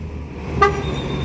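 A short single horn toot from a black double-decker Jetbus 3 bus rises briefly over steady traffic and engine rumble.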